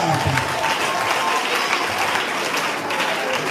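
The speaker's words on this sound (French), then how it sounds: "On va acclamer encore, c'est puissant." A church congregation claps and cheers in sustained applause, a dense, loud wash of hands from a large crowd with scattered voices mixed in.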